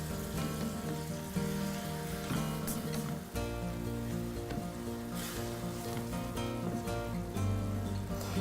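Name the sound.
stirring risotto simmering in a pan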